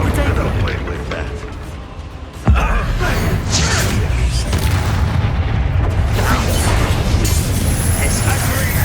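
Confringo fire spell blasts in the game Hogwarts Legacy, a deep booming burst landing around the two-and-a-half-second mark over dense, rumbling combat noise that carries on steadily afterward.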